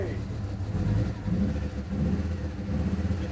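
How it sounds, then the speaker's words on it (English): A Fiat Coupe engine idles unevenly with a misfire, a low rough rumble with irregular pulsing that wavers in level, heard close while people speak over it. "You have engine. You have a misfire though."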